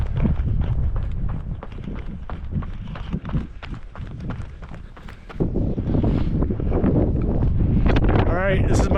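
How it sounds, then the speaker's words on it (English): Strong headwind buffets a GoPro microphone on a runner near Slide Lake, a continuous loud rumbling roar with steady footfall thumps underneath. "I'm gonna have the headwind all the way back, so it's gonna be noisy for this crazy GoPro"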